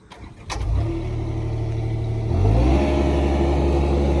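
A small skid steer's engine, the little machine lifting its bucket, turns over and settles into a steady mid-pitched drone, then rises in revs and load partway through and holds the higher, louder note to the end.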